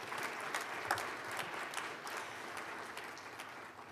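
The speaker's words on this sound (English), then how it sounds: "let's give a round of applause to everybody who made the year happen" An audience at the annual President's Innovation Challenge gives a steady round of applause, dense even clapping that holds for the full stretch without a break.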